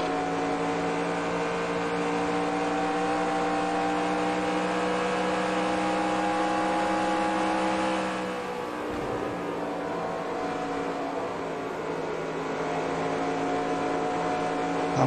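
A NASCAR stock car engine roars in NASCAR Racing 2003 during a race at Atlanta, a loud, steady, high-revving drone held at speed throughout, dipping briefly around the middle before carrying on.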